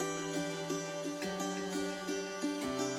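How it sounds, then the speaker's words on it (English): Guitar loop raised one octave for a melodic drum and bass production plucks a bright repeating phrase with regular note attacks and a chord change late on, continuous and without speech. "so I just pitched it up by 1 octave."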